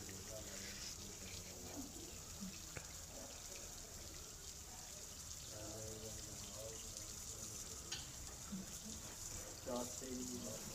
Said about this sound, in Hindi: पानी है कि ख़त्म होने का नाम ही नहीं ले रहा।